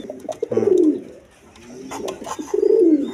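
Big yellow Indian Bombay pigeons coo close by in two distinct rolling bursts separated by a brief lull, with no talking.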